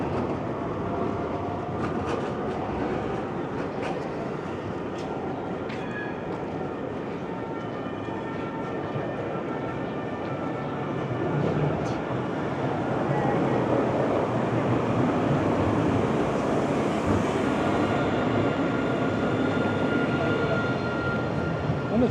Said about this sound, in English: Love their tram network.